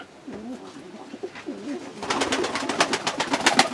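Pigeons coo softly and repeatedly in a new dovecote, their low rolling calls close by, joined after a couple of seconds by a burst of fluttering wing flaps.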